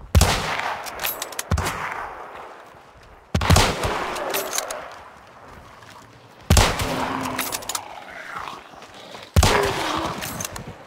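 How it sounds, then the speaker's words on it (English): Gunfire in a zombie survival video game: four separate bursts of loud, sharp shots, each fading into echoing decay, spaced a few seconds apart and heard alone without talk. "Someone's shooting at us."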